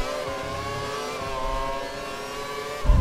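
Formula One racing cars from F1 2012 roar past one after another at the Canadian circuit, a steady high-pitched engine whine with shifting revs and a louder burst at the end, no talking.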